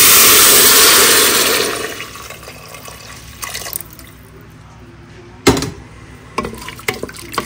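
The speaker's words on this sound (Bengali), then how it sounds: "আমি এখন স্টকটা অ্যাড করব।" Chicken stock poured into a large soup pot for creamy chicken soup: a loud, rushing splash for about two seconds that cuts off, followed by scattered drips and small clinks in a quiet kitchen.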